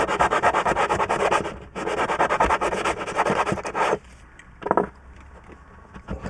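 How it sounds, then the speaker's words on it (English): Rapid rhythmic scratchy strokes of sanding a surface inside a campervan, steady for several seconds, then slowing into a few lighter rubs near the end. "I think it's going to need a bit of sanding."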